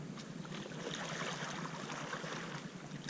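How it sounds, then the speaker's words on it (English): A paddle strokes through the water beside a long boat, a close, soft swishing wash lasting a few seconds with no voices. "You can paddle forward, bow draw, forward stroke"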